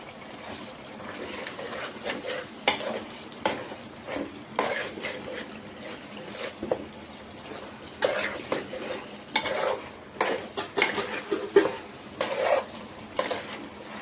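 Gongura chicken curry is stirred in a pan, with repeated scraping and clinking of a spoon against metal over a low bubbling sizzle, in uneven bursts, close up and without talk.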